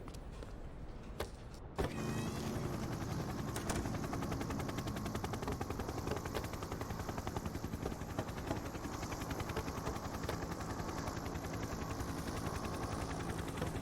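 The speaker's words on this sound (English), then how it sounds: "Our first week on the job and we're getting to go in a chopper?" A police helicopter in the video game The Precinct thrums with a steady, fast rotor chop that runs continuously and loudly after an abrupt start.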